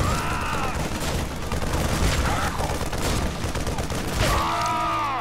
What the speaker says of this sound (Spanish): Lo destruiré con una explosión cinética